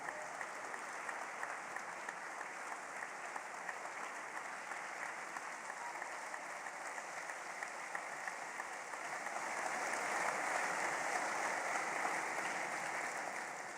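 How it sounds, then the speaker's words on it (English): Audience applause for a speaker at a third-anniversary gathering, a steady wash of many hands clapping throughout, swelling slightly louder toward the end, with no talking. "let's give her a really big round of applause, please"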